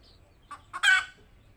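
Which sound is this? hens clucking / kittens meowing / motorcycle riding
hens clucking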